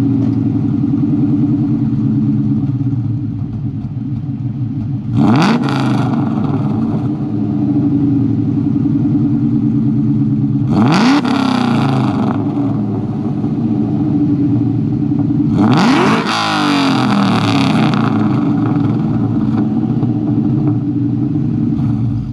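A 2003 Ford Mustang Cobra exhaust rumbling loudly at idle close by, punctuated by three sharp revs that flare and fall back, each a couple of seconds long, with no talking.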